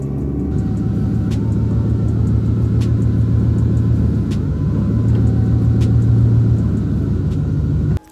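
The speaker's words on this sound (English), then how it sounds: "I'm gonna move the car really quick" A 2000 Ford Mustang GT idles and creeps inside a garage, its engine giving a loud, close, steady low rumble that cuts off abruptly at the end.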